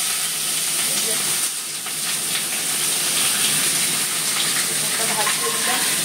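Chicken fries in a hot pan with steady, dense sizzling and hissing that holds at an even level throughout, close and fairly loud.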